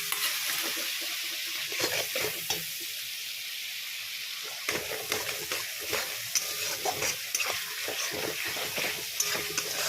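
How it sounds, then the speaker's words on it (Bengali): Spice masala for paneer tikka stir-fried in a pan, a steady broadband sizzle with scraping stirs and clinks of the spoon, close and continuous with no talking. "তো মশলাটা ভালো করে কষিয়ে নিতে হবে।"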